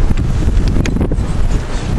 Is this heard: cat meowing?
no